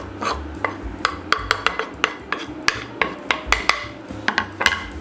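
Ingredients being stirred in a pot for beigli filling: sugar, vanilla and grated lemon zest. A metal spoon scrapes and clinks against the pot in repeated sharp taps over a low hum, with no talking.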